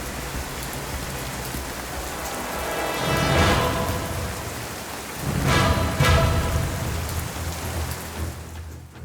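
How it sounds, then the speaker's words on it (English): Heavy rain pours onto parched, cracked earth in Africa with a dense, continuous hiss, swelling into two louder bursts of downpour midway before easing near the end. "The rain pours down relentlessly."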